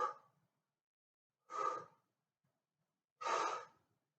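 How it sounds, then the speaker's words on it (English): Three forceful exhalations, evenly spaced about one and a half seconds apart, close to the mic with silence between them, as someone breathes out while rising during a core exercise. "Breathing out while you go up."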